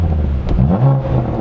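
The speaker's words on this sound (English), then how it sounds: "there's nothing like the sound of this twin turbo 3-liter inline 6" A 2021 BMW M2 Competition with a six-speed manual and twin-turbo 3-liter inline-six gives a brief, close engine rev, a raspy rise and settle lasting about a second with no talk over it.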